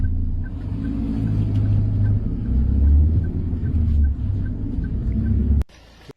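A car pulls away from a roadside traffic stop, its engine a loud low rumble that swells and holds for several seconds and then cuts off abruptly near the end.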